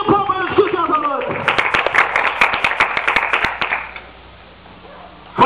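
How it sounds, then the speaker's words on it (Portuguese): A church congregation claps together during a service, a dense burst of rapid applause that follows a brief spoken voice, then dies away into near quiet. "Dá uma salva de palmas no Espírito essa noite"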